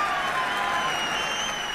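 A Holi poetry gathering's crowd claps enthusiastically in a brief, steady burst of dense applause, with faint cheering tones mixed in.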